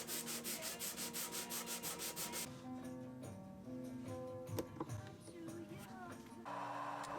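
Hand sanding of a small wooden block for a desk tidy gift, rapid rhythmic rubbing strokes at first, then steadier scraping friction, close and fairly quiet, with a faint background hum.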